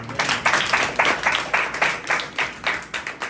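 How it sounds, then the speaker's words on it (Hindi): A church congregation at a convention claps together in a steady, rhythmic beat, roughly two claps per second, filling the hall evenly and moderately loud with no voices over it. "कब ताली दे सकते हैं?"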